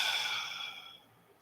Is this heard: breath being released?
yes